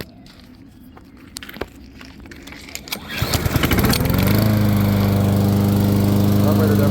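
A Honda engine on a Troybilt TB240 push mower is pulled into life after a few scuffs and clicks, then settles into a loud, steady running drone close by.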